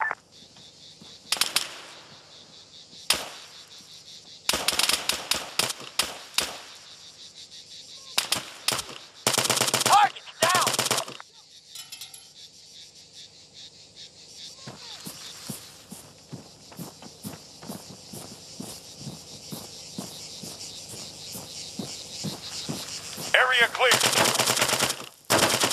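ARMA III gunfire sounds as bursts of loud automatic fire and single shots in short volleys, alternating with footsteps and quieter gaps, then a long stretch of steady rattling fire near the end.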